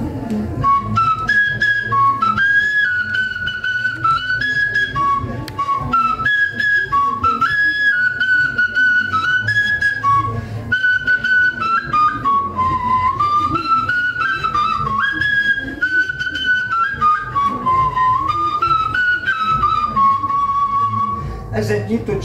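A replica bone flute made from a sheep leg bone, copying a 14,000–16,000-year-old instrument, plays a loud, breathy, whistle-like melody of wavering held notes and quick runs throughout, close and continuous during an ancient-instruments concert.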